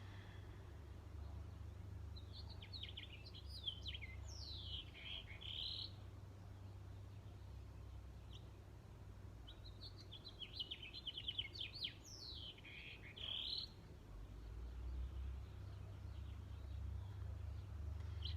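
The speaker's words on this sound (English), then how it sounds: "Thank you, little bird, for singing us a beautiful song" Small bird singing repeated chirping phrases in two bursts, fairly faint and distant, over a steady low hum with no talking.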